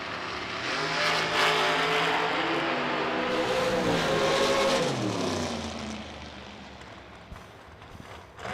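Drag racing cars launch during a foot brake round at a Fuel Tech 50K Friday event, engines roaring loud with rising revs, then fading into the distance as they pull away.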